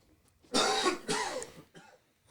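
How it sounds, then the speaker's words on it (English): A person coughs twice in quick succession, close and fairly loud, followed by a short softer throaty sound. "I'm just coughing"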